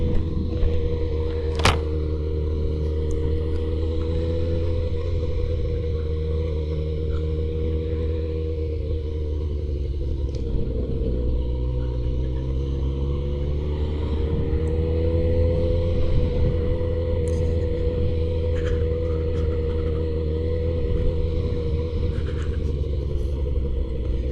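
A motorcycle rides along with short shifting and stretches of coasting, its engine a steady low droning rumble that dips and rises in pitch, close and continuous with no talk.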